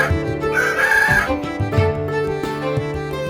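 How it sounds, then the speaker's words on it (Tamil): A rooster crows once in a long, rising-and-falling cock-a-doodle-doo, clear and fairly close, over a steady bed of background music with no talking. "சேவல்"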